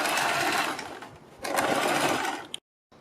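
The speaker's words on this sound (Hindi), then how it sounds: "इसके बाद हम बुकरम के बिल्कुल बराबर में पूरे गले के ऊपर सिलाई लगाएंगे" An electric sewing machine stitches around the neckline of a suit or kurti, running in two fast, close bursts with a brief slowdown between them, then stopping abruptly into silence.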